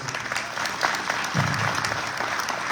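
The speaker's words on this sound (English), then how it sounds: "So give him a round of applause." A crowd at a civic funding announcement at a Philadelphia casino and hotel breaks into close, lively applause, a continuous patter of many hands that holds strong from start to finish.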